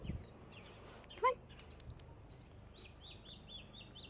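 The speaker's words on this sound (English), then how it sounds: "We got some birds in the background." Faint bird chirps in the background during a dog training walk, a short bright call in the middle followed by a run of small repeated tweets, distant and quiet over low ambient noise.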